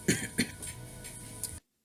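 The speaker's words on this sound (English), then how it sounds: "I have a dry cough" A couple of short, dry coughs near the listener, then a faint hoarse exhalation, ending in abrupt silence.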